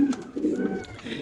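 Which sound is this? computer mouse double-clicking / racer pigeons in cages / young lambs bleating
racer pigeons in cages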